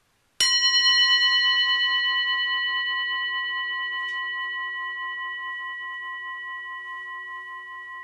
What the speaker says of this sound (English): I'm just going to chime the chime to clear the space.